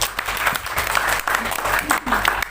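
Church congregation applauding at an Indonesian Christian service, a dense, steady wash of clapping that fills the short stretch, with a voice briefly audible underneath.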